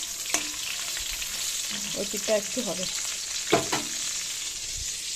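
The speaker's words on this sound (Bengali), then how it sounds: "একটু কড়া করে এর জন্য ভাজছি" Fish frying in a pan for a crisp finish gives a steady sizzle with stirring and a few scrapes, while a voice speaks briefly over it.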